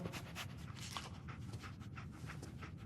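Dogmeat, the dog companion in Fallout 4, pants in quick, rhythmic breaths, close and moderately loud with no talking.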